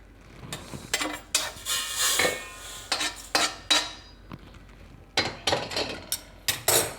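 Roasted jowar grain scooped from a pan into a vessel, heard as a series of light scraping clatters and metallic clinks of spoon on cookware, irregular and moderately close, with quiet gaps between.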